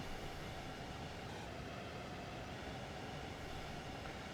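A train rumbles steadily along the Hamburg to Lübeck line in the Train Sim World 2 video game, giving a dense, constant rolling noise with no talk.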